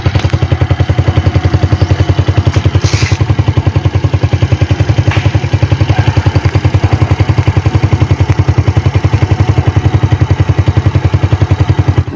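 A loud motorcycle engine with a modified, drilled stock exhaust pipe putters in a fast, even pulse with a deep throaty exhaust, close up and steady, with no talking.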